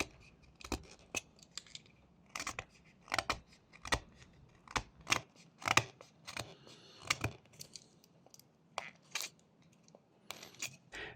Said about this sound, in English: on the other side I cut with the tip of the blade like that, and then on this side I cut with the larger edge of the blade